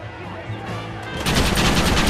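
A burst of loud, rapid gunfire in the Western video game Red Dead Redemption, close and dense, swelling in the second half amid game sounds and a brief voice.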